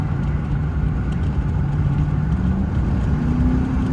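Broken-down truck engine revving at high RPM in the desert, a steady loud drone with a slowly rising tone, heard from inside the cab with no talk.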